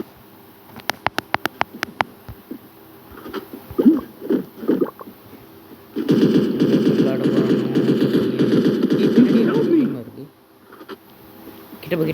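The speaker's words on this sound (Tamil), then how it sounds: "இதுதான் புல்லட் சவுண்டு" Gunfire in the Free Fire battle royale mobile game: a quick burst of sharp shots, then a few separate pops, followed by several seconds of sustained rapid automatic fire, with voices talking in between.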